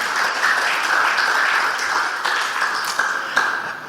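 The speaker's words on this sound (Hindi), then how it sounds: "ताली बजाओ, महत्वपूर्ण बात है।" An audience at a spiritual discourse on Mahavir Jayanti bursts into applause, a dense, loud wash of clapping sustained throughout, with a few sharper individual claps standing out toward the end and no talking.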